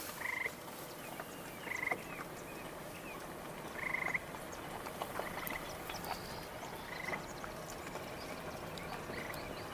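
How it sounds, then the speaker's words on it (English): Frog croaking outdoors during a nature walk, short repeated calls spaced a second or two apart over a steady hum of ambient noise, faint and a little distant. "That's a frog you're hearing, most likely."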